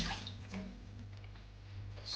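Meat being washed under running water in a home kitchen in Italy, a steady low rush of water with faint splashes and drips, fairly quiet throughout.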